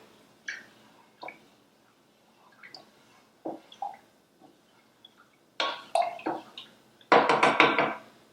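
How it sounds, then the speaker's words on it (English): Cooked quinoa stirred in a pot on a stovetop burner, scattered wet scrapes and soft clunks of a spoon against the pot, sparse at first, then a louder burst of stirring near the end. "So let's give this a stir."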